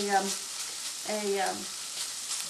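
Food frying in very hot, smoking peanut oil, a steady close hiss and sizzle throughout, with brief faint voice-like sounds surfacing over it.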